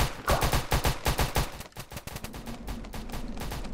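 Rapid bursts of automatic gunfire in a Roblox shooter game, loud and continuous for a few seconds and then easing into sparser, quieter shots, with no talking over them.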